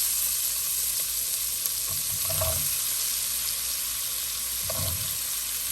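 Potatoes go into a hot pan for chira pulao, a flattened rice pilaf, and a steady sizzle of frying follows, with soft stirring and scraping bumps on top and no voices.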